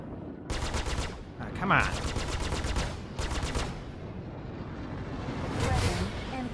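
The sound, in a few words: ship cannon firing in video game Star Citizen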